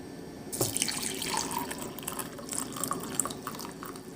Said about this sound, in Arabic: انزل عليها بمعلقة بمية سخنة